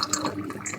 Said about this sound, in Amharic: እና ይሄን የሞቀውን ውሃ አደርጋለሁ ማለት ነው።